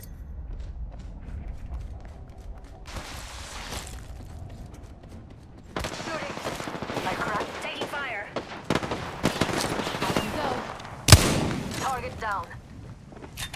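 Bursts of automatic gunfire from the Apex Legends battle royale video game, several rapid volleys of varying loudness with a sharp loud crack near the end, over game ambience and a quiet stretch at the start.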